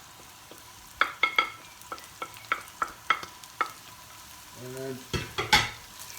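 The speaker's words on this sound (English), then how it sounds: "you just saute it a little bit, just to saute it" Ground spices such as red chili, coriander seed, garam masala and cumin sauté in a pan for egg curry, with a soft sizzle under repeated sharp spoon clinks and scrapes against the pan, and one short spoken word.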